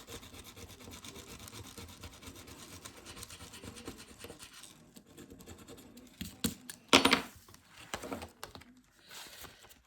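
A 10 euro scratch card being scratched with a coin or fingernail, giving close, dry rubbing and rasping strokes that grow louder and more uneven toward the end.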